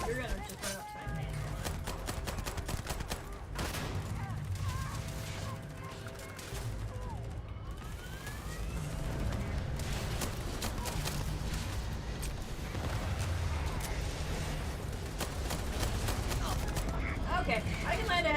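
Gunfire in the space shooter game Starfield, bursts of shots and weapon clatter running continuously through a dense, loud game soundscape while a player talks over it.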